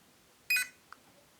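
An ILIFE G9 Pro robot vacuum-mop gives one short, bright electronic beep, followed by a faint tick in an otherwise quiet room.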